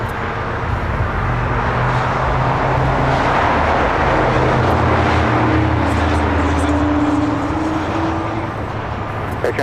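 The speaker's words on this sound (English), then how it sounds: "I believe this is the second Air Tahiti Nui Dreamliner, now short final for 25 left" An Air Tahiti Nui Boeing 787 Dreamliner on short final to runway 25 left at LAX, a loud and steady jet roar with a faint rising whine partway through, heard under continuous wind-buffeted noise with some talking.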